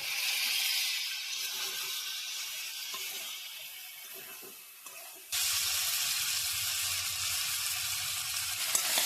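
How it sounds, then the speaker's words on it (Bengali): Spice paste frying with jackfruit and potato, a steady hiss that grows fuller and louder partway through as more goes into the hot pan, close, with no talk. "মশলাটা আমি কষিয়ে নেব"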